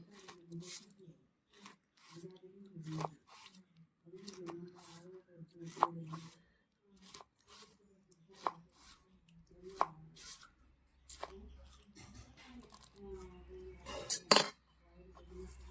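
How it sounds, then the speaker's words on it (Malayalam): A knife cuts through pineapple in a series of distinct, close chopping taps at an uneven pace, with a voice speaking between cuts and a low rumble and clatter near the end. "ഈ പരുവത്തിന് നമുക്ക് കട്ട് ചെയ്തെടുക്കാം"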